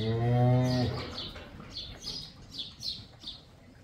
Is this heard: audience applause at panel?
no